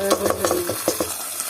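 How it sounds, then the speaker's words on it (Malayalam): Fried mustard seeds are poured into a curry, giving a short burst of crackling sizzle up close, with quick pops and stirring clinks that fade to a low hiss. "കടുക് വറുത്ത് നമ്മുടെ കറിയിലോട്ട് ഒഴിക്കുവാണ്"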